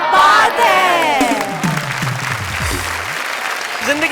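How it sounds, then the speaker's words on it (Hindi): Audience at a Hindi kavi sammelan comedy poetry show breaks into loud, sustained applause with some cheering, strongest at the start and continuing steadily. "यहाँ तालियां हैं, ठहाके हैं और खुशियों की बरसात है"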